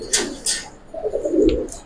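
Giribaz pigeons give a few soft, low coos close by, with light rustling at the start, heard alone in under two seconds.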